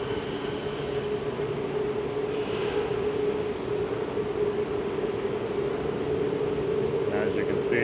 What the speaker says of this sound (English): And there is the inbound train.